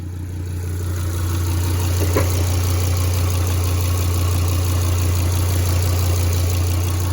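A Volvo S60R engine idles steadily just after a mid cold start, a continuous low hum with mild vibration that holds even and close throughout, with one brief faint tick partway through.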